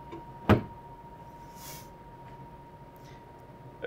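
A Dentsply Sirona Primeprint 3D printer door swings shut with a single sharp close, near and fairly loud, followed by a quiet stretch of low machine hum and faint clicks.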